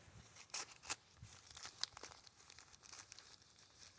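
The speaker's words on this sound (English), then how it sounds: "you can just cut off little slivers" Pocket knife blade shaving slivers off a fire starter in the woods, giving faint scattered scraping and crinkling strokes at close range, several short rasps with quiet gaps between them.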